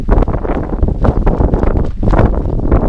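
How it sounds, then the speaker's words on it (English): Cold wind gusting across a lakeside campsite at Haugastøl, roaring loudly and steadily into the microphone with buffeting bursts throughout. "That wind is bad, so I have to close that up."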